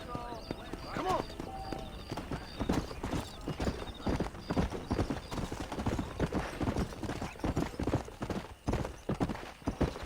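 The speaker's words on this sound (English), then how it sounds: "so I guess this is my horse now." A horse in the video game Red Dead Redemption gallops, with rapid rhythmic clip-clop hoofbeats close up, a brief whinny near the start, and a voice talking over the hooves.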